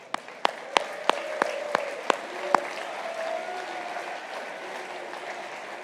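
Scattered sharp claps ring out from a stadium crowd as Croatia's Luka Modric leaves the World Cup pitch, then fade into a steady, distant crowd murmur.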